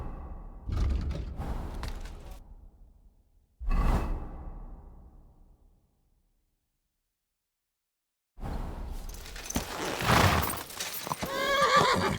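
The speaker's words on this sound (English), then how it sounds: "My, what a beautiful horse." A horse in the medieval video game Kingdom Come: Deliverance II neighs and whinnies in bursts, with swishing movement and a soft hoof clip-clop, a silent gap, then a louder, busier stretch of horse sounds.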